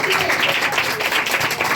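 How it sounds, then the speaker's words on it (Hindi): A crowd applauds at an Independence Day celebration with a dense, loud, continuous wash of clapping, and voices can be heard mixed in. "जोरदार तालियां"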